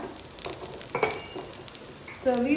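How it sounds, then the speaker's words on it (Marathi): Sesame seeds spluttering in a frying pan of rustic green-chilli and pea thecha, a close hiss with scattered popping crackles and a brief clink of utensils, a voice briefly audible. "तीळ छान फुटफुटले म्हणजे आपला ठेचा रेडी"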